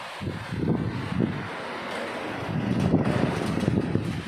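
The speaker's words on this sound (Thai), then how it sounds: "ลมแรงมากเลย" Strong, gusty wind of an approaching storm buffets the microphone in surging roars that rise and ease, steady and close throughout with no voices.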